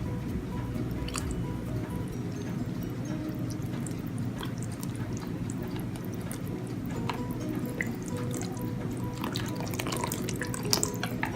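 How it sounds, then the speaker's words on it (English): A liquid mixture is poured into dry red velvet cake ingredients, making a steady, soft wet trickling and squishing noise that continues evenly and close, with no talking. "now we're going to add our liquid mixture into our dry mixture"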